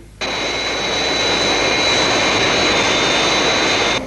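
Fireflash atomic airliner from the Thunderbirds puppet series, its jet engines roaring in a loud, steady whine with a high tonal hum that sets in abruptly and holds without any voices.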